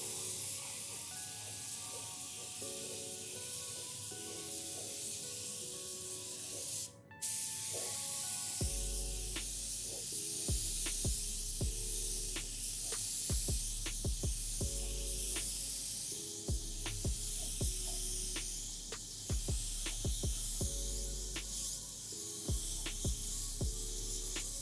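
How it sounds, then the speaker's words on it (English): A spray gun lays transparent automotive basecoat onto a bumper with a continuous close hiss, broken by short pauses and repeated sharp trigger clicks. "Nice wet coat on the bumper."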